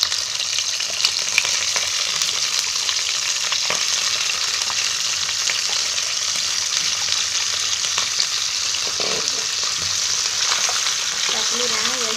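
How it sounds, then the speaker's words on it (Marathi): Salmon pieces frying in hot oil for a fish curry, a steady loud sizzle running throughout with occasional stirring scrapes and faint clinks. "आता त्याच्यामध्ये ना हे जरा फ्राय करायला हे त्याच्यात टाकते मच्छी."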